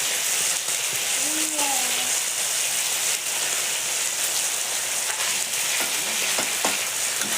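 Poppy seed paste frying in hot oil in a home kitchen, a dense steady sizzle heard up close throughout, with a few faint clinks and a voice speaking over it.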